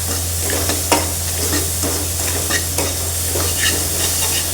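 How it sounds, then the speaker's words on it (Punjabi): Spices cook with water in a kadai on a very high gas flame for a pumpkin sabzi, giving a steady bubbling sizzle with repeated spoon scrapes and stirs and a low hum underneath. "ਪਾਣੀ ਦੀ ਪਾ ਦੇਣੀ ਤੇ ਮਸਾਲੇ ਪਕਾ ਲੈਣੇ ਚੰਗੀ ਤਰ੍ਹਾਂ ਗੈਸ ਬਹੁਤ ਤੇਜ਼ ਆ"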